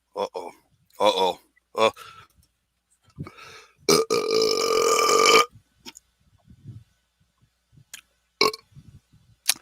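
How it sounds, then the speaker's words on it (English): A man burps several times close up, with short croaky bursts and one long drawn-out belch in the middle, amid breaths and brief sounds of talk. "I got a burp coming."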